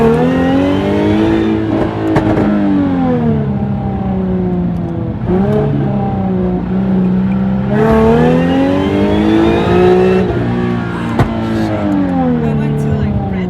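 A Jaguar F-Type V6 S engine revs loudly up toward redline in several rising and falling sweeps, its snarling pitch climbing then dropping, close and continuous with brief sharp pops between pulls.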